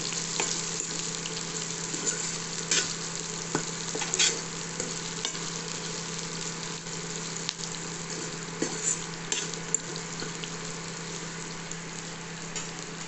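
Onions frying in a pan for seasoned rice, stirred now and then, a steady close sizzle with scraping stir strokes scattered through, and no talk.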